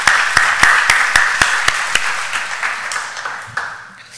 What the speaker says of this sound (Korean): 다니엘 목장을 다시 한 번 더 박수로 격려하시겠습니다